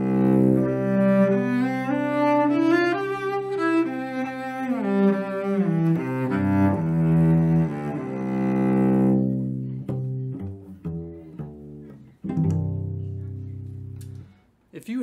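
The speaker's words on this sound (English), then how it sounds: "I play the cello, which sounds like this." Solo cello playing a flowing melodic line with sustained bowed notes, close and fairly loud, ending in a few shorter separated notes; no talking.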